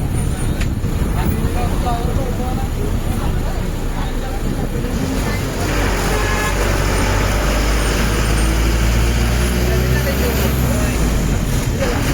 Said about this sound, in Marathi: आपली बस आली आहे मागेच आहे